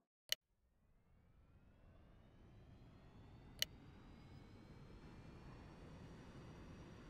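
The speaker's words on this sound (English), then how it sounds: "We're gonna go ahead and get the APU started." Aircraft APU starting up on a CHA-300 in X-Plane 11, two sharp clicks bracketing a low whine that rises steadily into a sustained hum, faint and alone.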